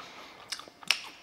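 Crunchy salted cheese French Twists snack bitten close up, two or three brittle crackling crunches in quick succession over about a second, with no talking.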